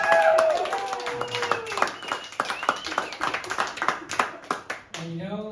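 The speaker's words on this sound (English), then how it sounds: "Can we clap for that?" An audience at a live stand-up comedy show at a theater claps in a burst of scattered, fading applause, with a voice speaking over it near the end.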